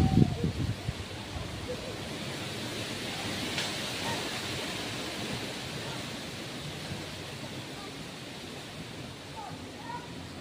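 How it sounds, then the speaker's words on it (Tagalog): Steady wind blows across an open outdoor lansones orchard in the countryside, a constant broadband rush with no pauses, loudest at the very start and easing slightly over time. "Mahangin."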